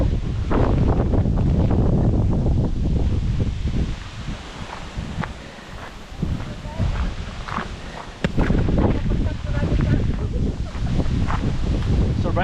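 Strong wind gusts roar across the microphone at a family campsite in Alberta, a loud, steady buffeting with rustling and brief lulls, while people talk faintly beneath it.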